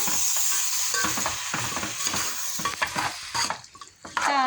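Pieces of chicken being stirred and fried in a hot pan: a continuous near sizzle overlaid with brisk, rhythmic scrapes and clinks of a spoon against the pan. No one speaks.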